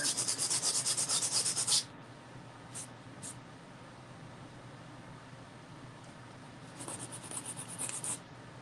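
Rapid rhythmic scratchy rubbing of sanding at the start, then a quieter stretch with faint brushes, before the gritty back-and-forth scraping resumes near the end.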